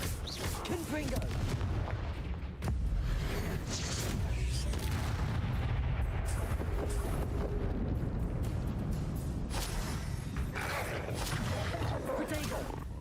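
Confringo blasting spell explosions in Hogwarts Legacy, a dense barrage of booming blasts and crackling impacts layered over constant rumbling battle noise, loud and near, with voices calling out amid the din.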